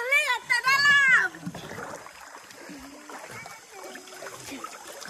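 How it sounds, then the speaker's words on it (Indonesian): River water in Kapit, Malaysia, splashes and trickles steadily nearby as a boat or people move through it, after a loud child's cry at the start, with voices talking over the flowing water. "Air sungai. Macam ini dia."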